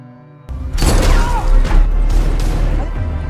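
A grenade explosion in an action film about a Marine veteran fighting the Russian mafia: one loud, close blast that breaks out of near silence, with a crashing, rumbling roar that hangs on and slowly fades.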